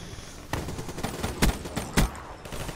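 Shieva rifle firing in Black Ops 3, with sharp bursts of close gunfire in quick, uneven clusters over a busy game background.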